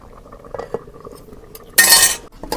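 A lid is set onto a cooking pot of boal fish curry with tomato and potato in a village kitchen: a bright metallic clatter and ring near the end, preceded by light clinks and small knocks, with no talking.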